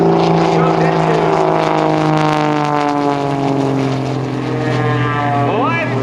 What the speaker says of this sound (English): He sets up for this ribbon cut, ladies and gentlemen. He's going to be coming through at 140 miles an hour.